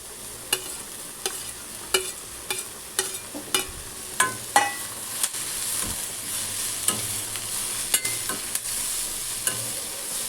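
Mixed vegetables and corn sautéed in a pan for white sauce pasta: a spatula scrapes and taps the pan in a steady, repeated rhythm over a soft, continuous sizzle, close up, with no talking.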